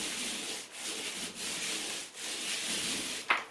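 A paint roller rolls paint onto a wall in steady, close, sticky rubbing strokes, with brief pauses between passes and a small click near the end.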